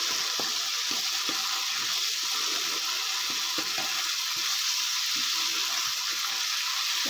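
Masala and ingredients sautéing in a pan for a mushroom masala, giving a steady, close hiss with soft scattered crackles and spatters throughout.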